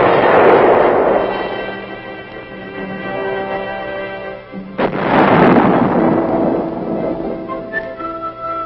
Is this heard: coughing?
no